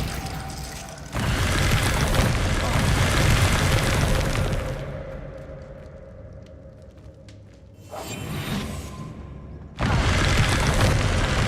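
A Glacius ice spell is cast in the video game Hogwarts Legacy, a loud booming, whooshing burst of game effects that swells, dips to a quieter icy crackle, then returns in heavy surges.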